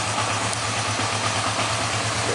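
A Kawasaki 305 motorcycle engine idles steadily at close range, a continuous low, even throb that holds without revving or pauses throughout.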